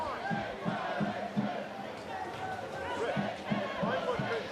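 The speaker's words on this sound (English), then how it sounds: "Crowd again trying to lift the home side" A stadium football crowd at Porirua Park during a Wellington Phoenix v Canberra United A-League women's match, a steady roar of chanting and cheering with rhythmic bursts, fairly distant and continuous throughout, with some speech-like voices mixed in.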